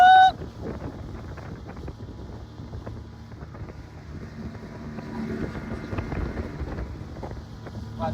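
A boat ride on water in Kutch: a steady low rumble of the boat with gusty wind buffeting the microphone and faint scattered background voices throughout.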